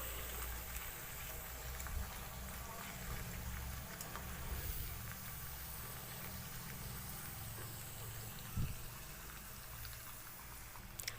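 Kadakani, a crisp Marathi festival sweet, deep-fry in oil over a medium flame, giving a steady, soft bubbling sizzle that runs evenly throughout with a few faint clicks.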